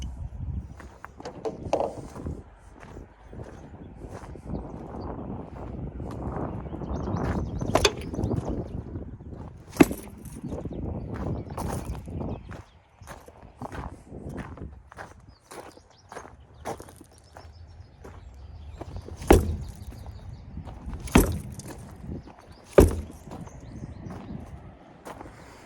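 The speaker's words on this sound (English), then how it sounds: "Starting to drag a bunch more gravel back here." Boat trailer wheels scrape and drag through loose gravel during winching, a continuous rough crunching grind with several sharper knocks and clanks near the end.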